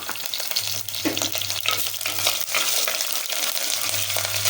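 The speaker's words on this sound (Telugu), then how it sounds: "బాండీ పెట్టుకొని నూనె కొద్దిగా పోసుకొని కొద్దిగా ఆవాలు వేసుకొని కొద్దిగా కరివేపాకు వేసుకొని" Mustard seeds and curry leaves sizzle loudly in a small amount of hot oil in a kadai, a dense continuous crackle with spitting pops throughout, close and without talk.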